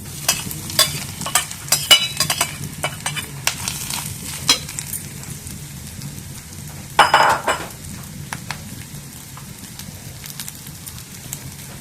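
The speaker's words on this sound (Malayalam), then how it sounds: "ഇനി ഇതിലേക്ക് തേങ്ങ ചേർത്ത് കൊടുക്കാം" Grated coconut sizzling and frying in a small amount of oil in a pan for Kerala vaala theeyal, with a spatula stirring and scraping in irregular clatters and a steady crackling hiss underneath, fairly close.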